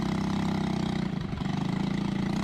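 A 4-stroke kart engine on a 2-stroke chassis idles steadily, a fast even putter that holds level with a brief dip partway through.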